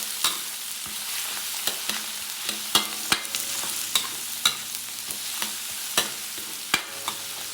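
Onion, garlic and ginger sautéing in oil sizzle loudly and steadily, broken by frequent sharp clicks and scrapes of a utensil stirring against the pan, with no voices.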